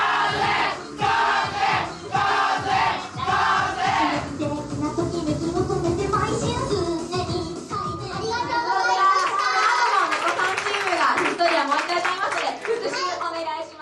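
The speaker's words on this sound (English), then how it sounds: "The spectators, comprising men of working age, stand in unison, clapping and cheering" Crowd of working-age men at a mini-concert clapping, cheering and shouting together, a loud continuous mass of claps and voices that stays dense throughout, with music-like tones rising in the second half.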